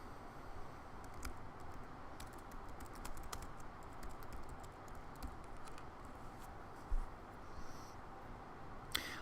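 Typing on a computer keyboard while entering welcome text on a web page, a steady run of soft, rapid key clicks with a few sharper taps, close and alone over a faint background hiss.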